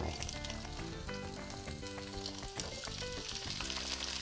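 Garlic and pepper frying in olive oil, a dense, steady sizzle with faint crackles, close and uninterrupted, no voices.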